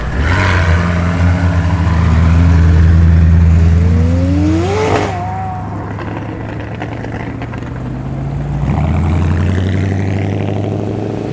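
A McLaren pulls away from a car show in Tempe, Sydney, its engine droning steadily and then revving in a rising sweep midway before settling back to a lower rumble, close and loud.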